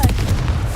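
Confringo explosive spell cast in the Hogwarts Legacy video game: a short, loud, booming blast with a heavy low thump and crackling burst, heard alone.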